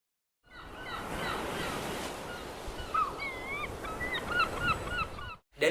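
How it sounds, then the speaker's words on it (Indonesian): Seagull calls from a sound-effect pack over a bed of ocean waves and wind, several sharp, repeated cries in the second half, moderately loud against the steady surf. "Kita bisa masukin suara burung laut,"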